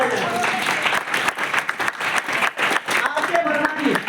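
Children in a Republic Day celebration crowd clap together in sustained, dense applause that runs steadily with brief dips, loud and close, with a voice speaking over it.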